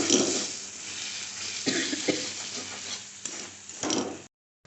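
Ground turmeric, chili and coriander fry in a pan for dal, a close, steady sizzle with a few stirring scrapes.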